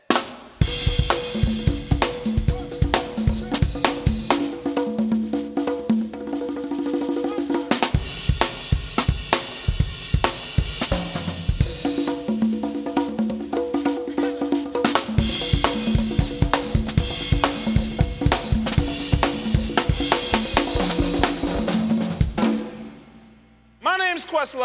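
A drum kit, bongos and congas play together in a lively, steady rhythm of sharp, loud hits, with a brief pause partway through and a short break near the end.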